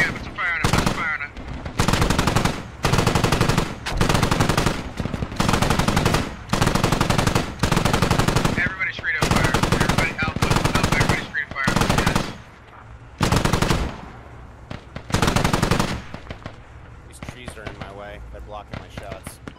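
Loud machine-gun bursts from the video game Squad crack out in repeated volleys of rapid automatic fire, separated by short pauses, with voices talking between and over the shooting.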